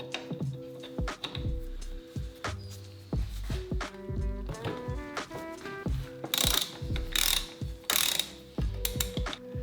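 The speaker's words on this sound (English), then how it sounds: "I started by removing the brake hose." Ratchet clicking and metallic wrenching as a brake hose is undone from a rusty Honda CB250 motorcycle brake caliper, with irregular bursts of close, clattering turns and a few sharper scraping hisses.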